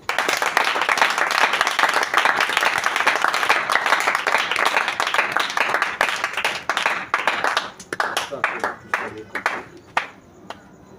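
A church congregation claps together in a dense, sustained wave of applause that slowly thins into scattered, separate claps before fading out.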